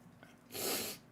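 A single sharp sneeze bursts out close by after a short intake of breath, loud and breathy, then cuts off.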